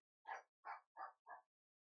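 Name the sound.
small pet dog yapping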